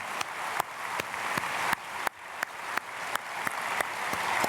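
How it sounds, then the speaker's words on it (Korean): A church congregation applauds the choir after Sunday worship, a steady wash of many hands clapping together at a distance, with sharper individual claps standing out at intervals. "박수하겠습니다."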